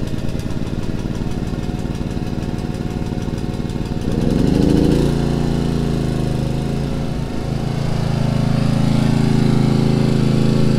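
A loud petrol generator runs steadily with a lawnmower-like engine drone, shifting pitch briefly midway before settling back into a constant rumble.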